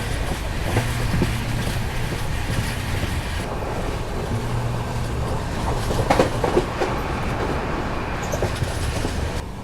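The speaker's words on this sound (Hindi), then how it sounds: "बाकी अपनी ट्रेन द्वारका पहुंचने वाली है" Mumbai-Hapa Duronto Express running on rails as it nears Dwarka, heard from inside a carriage: a steady loud rumble with clickety-clack of wheels over rail joints and occasional squeal.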